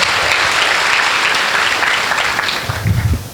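Loud audience applause at a seminar at LPU, Jalandhar, Punjab, dense clapping from a large crowd that thins out and fades near the end.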